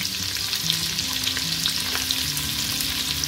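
Onion fries in hot oil with black cardamom, cloves, cinnamon pieces and star anise for a Kashmiri chicken harissa, a steady dense sizzle running throughout with faint stirring scrapes on top, close and loud, no speech.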